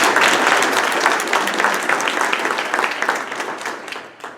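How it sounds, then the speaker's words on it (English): An audience at a Rotary club meeting in Columbia applauds, a dense, steady clapping that is loud at first and then slowly fades toward the end, with no talk over it. "And I want you to clap on that."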